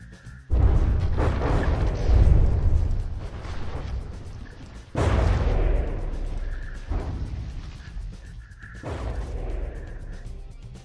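Naval guns fire and shells strike ships in the From the Depths video game, a run of heavy booming blasts and crashing impacts, some rolling and long, others sharper, loud and dense with no speech.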